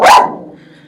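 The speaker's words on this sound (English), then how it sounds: "I apologize for my dogs" One loud, sharp dog bark close by, cutting off quickly and leaving a brief fading echo.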